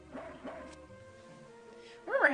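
A small dog barks and yips in the video game Mother 3, two short synthetic bark blips followed by a sustained tone and a louder rising warble at the end, with talk over parts of it.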